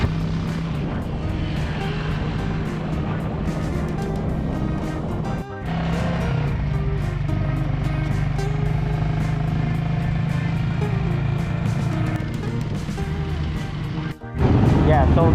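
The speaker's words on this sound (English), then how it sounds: "So this is the inside in the tricycle." A motorized tricycle carries a passenger through streets in the Philippines, its engine droning loud and close in a steady buzzing rumble that briefly cuts out twice, with a voice talking over it.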